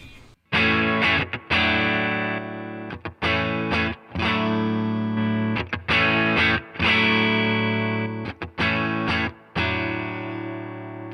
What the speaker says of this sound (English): So now the Hall reverb's doing it.